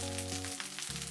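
Tomato fried rice with freshly added spring onion sizzling in a hot pan, a steady frying hiss with a brief stir, close and continuous without any voices.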